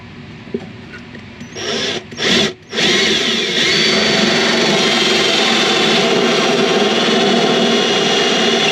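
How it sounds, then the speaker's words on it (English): A handheld power drill, held upside down, bores into a caravan in the dark during an inverter install, whirring in short bursts before settling into a long, continuous grinding whine close by. "Hold the drill upside down for this."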